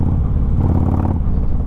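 A 2016 Harley-Davidson Road Glide Ultra with a Milwaukee-Eight engine gives a short, loud, steady low rumble as the throttle is blipped, the tone swelling briefly in the middle before easing back.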